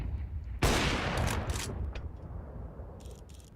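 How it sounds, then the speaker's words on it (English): A single sharp AWP sniper rifle shot in the Counter-Strike video game, a loud close crack followed by a decaying tail and a couple of faint clicks afterward. "scoped in with his AWP, waiting for someone to be on the receiving end of it"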